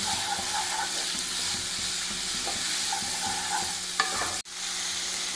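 Onions sautéing in a pan for chicken stew, a steady close sizzle and frying hiss with occasional stirring scrapes throughout, plus a brief sharp knock near the end.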